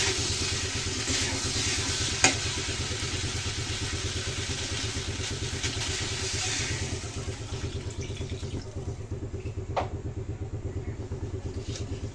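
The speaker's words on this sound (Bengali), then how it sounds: "তরকারি কিন্তু খুব সুন্দর ফুটতে শুরু করে দিয়েছে" A soybean and potato curry bubbling in a pan after water is added, a steady close simmer with a low rhythmic throb and occasional faint clinks.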